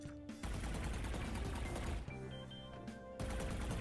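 A video game weapon fires in bursts during shooting practice. Two dense volleys of rapid automatic gunfire are separated by a short pause, and a third burst starts near the end.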